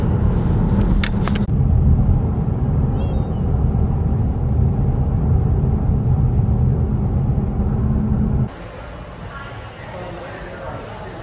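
Steady low rumble of a car travelling along a road, heard from inside the cabin on a trip toward Sydney, loud and continuous before dropping to a quieter hum near the end, with brief voices in the car.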